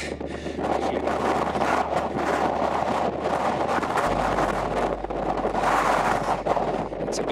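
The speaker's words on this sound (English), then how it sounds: "It's a bit windy." Strong wind on an exposed mountain path on the Crib Goch route to Snowdon, a loud steady roar of gusts buffeting the microphone, rising and falling throughout with no other sounds.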